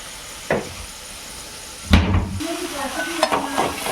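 Dried red chillies dropped into hot oil for paneer gravy, a sharp clatter and burst of sizzling followed by a steady crackle with a few light metallic knocks, close and moderately loud.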